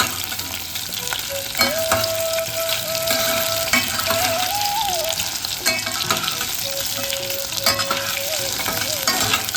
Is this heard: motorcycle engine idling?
no